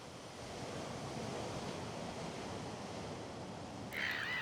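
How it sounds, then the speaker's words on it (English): Stormy waves wash against the shore of Lake Bracciano, a freshwater volcanic lake, as a mistral wind blows hard, a steady broad rush of surf and gusts without pause. "it can become stormy when the mistral wind blows."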